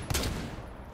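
Gunfire from Rainbow Six Siege is a single short, loud blast at the start that decays into a dull rumble, with no speech during the one-second span.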